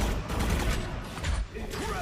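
Rapid bursts of automatic turret fire in a Valorant match on the Haven map, dense and crackling over roughly two seconds, with a caster's voice talking underneath.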